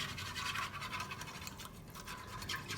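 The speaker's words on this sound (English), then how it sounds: "just give it a little whisk to just get that flour broke up so it mixes into our milk" A small whisk beating flour into milk for sausage gravy, heard as a continuous close, soft, rapid swishing and scraping against the bowl.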